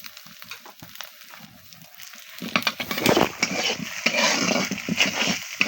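Frying in a pan while cooking bou bhat from leftover rice with cumin and salt, a soft low hiss at first that swells into louder, dense crackling sizzle with scraping stirs in the second half.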